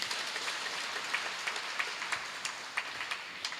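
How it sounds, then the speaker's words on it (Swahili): A church congregation at a Kikuyu service applauding, a run of scattered, fairly distant claps with irregular individual hand strikes over a soft room hum, no voices. "aciothe tuwapigie makofi"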